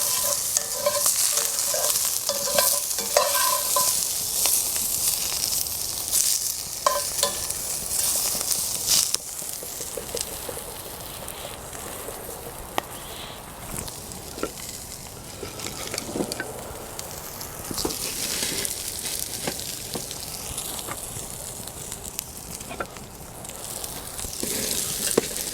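Brussels sprouts sizzle in olive oil in a pan over a campfire, with a steady bright hiss and scattered scraping clicks as they are stirred, fairly quiet and without talk.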